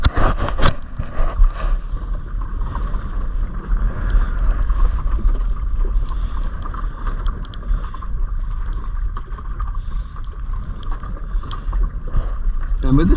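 Wind and water noise aboard a small sailing dinghy cruising against the tide, a steady broadband rush with low buffeting throughout, loud and close, with a voice talking over it.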